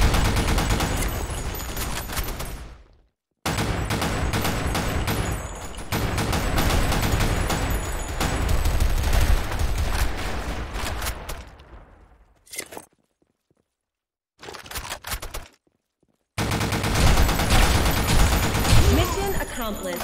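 Grenade blasts and rapid gunfire in the shooter Blackshot: dense, loud bursts of shots and explosions sweep through most of the stretch, broken by two short silent gaps.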